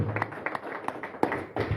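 A church congregation claps in praise during worship, sharp irregular claps ringing out in a roomy space with a faint murmur of voices underneath.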